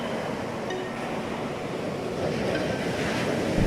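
Ocean waves wash in a steady broadband roar with wind-like hiss, continuous and moderately loud, with no voices.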